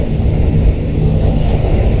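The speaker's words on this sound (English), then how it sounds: "Most of you have traveled in a Pakistani train or Indian train because the sound of the train is the same" Pakistani Greenline Express passenger train running on the rails between Karachi and Hyderabad, a loud, steady low rumble and rattle heard from inside the carriage, continuous and unbroken with no talk.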